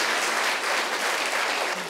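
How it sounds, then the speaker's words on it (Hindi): An audience at a Buddhist community program at Trisharan Buddha Vihar in Nagpur breaks into steady, dense applause, a continuous wash of clapping with no pause. "जोरदार ताली"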